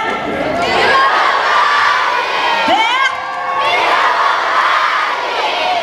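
A big outdoor show crowd at a concert in Kirovohrad shouts loudly together in a sustained roar, which dips briefly and then swells again, with whoops and cheers on top.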